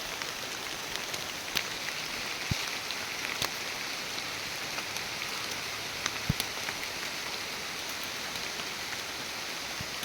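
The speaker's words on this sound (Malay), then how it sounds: "Hujan guys, beginilah keadaan dia." Steady rain falls outdoors near a fishing spot, a soft continuous patter with scattered sharper drops ticking close by, no voices.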